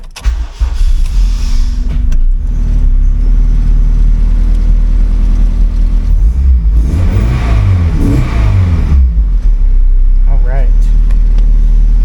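An Acura RSX running on E85 fuel cranks and fires, then settles into a loud, steady idle with a brief rev swell midway; a voice talks over it.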